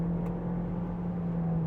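MG3 hybrid city car accelerating hard as its petrol engine joins the electric motor, giving a steady near drone with a strong low hum held throughout, no talk.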